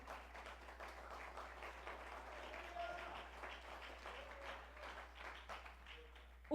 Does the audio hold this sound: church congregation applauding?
yes